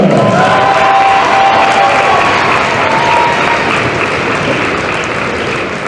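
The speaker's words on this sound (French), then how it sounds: "Je vais applaudir Benjamin Tison." Loud, sustained applause from a crowd at a men's padel final in France, many hands clapping densely with a few cheers, tapering slightly toward the end.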